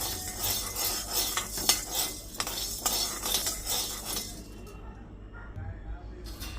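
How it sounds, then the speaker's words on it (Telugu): Urad dal is stir-fried in a pan, with metal spoon scraping and clinking against the pan in quick irregular bursts, fairly close and moderate, fading toward quieter sizzling at the end. "సేమ్ క్వాంటిటీ మినపప్పు కూడా మంచి దూర వేయించుకోవాలి"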